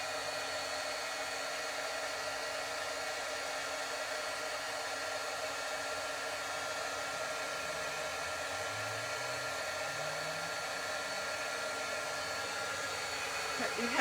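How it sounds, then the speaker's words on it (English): A heat gun blows hot air in a steady, continuous whoosh for the whole stretch, constant in level and fairly close, with no talking over it. "Just going to use my heat gun away from the sound of the camera."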